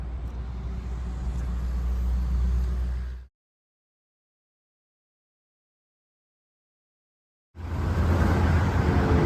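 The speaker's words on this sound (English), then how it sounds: "Look at all them people stuck in traffic." Steady, loud roar of interstate highway traffic near the Delaware Water Gap, dense vehicle rumble that cuts to silence for about four seconds and then returns just as strong.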